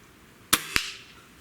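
Gamo Swarm Maxxim .22 caliber air rifle firing one sharp, close crack, followed a fraction of a second later by a distinct ringing impact as the pellet strikes a shotgun shell target, then a brief fading tail.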